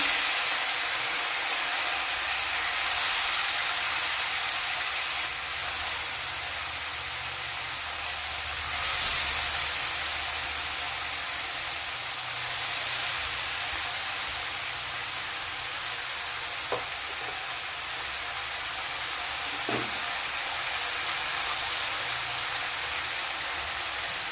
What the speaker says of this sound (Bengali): তো প্রথমে আমি মাছগুলোকে হালকা করে ভেজে নিব।